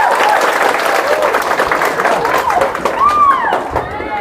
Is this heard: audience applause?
yes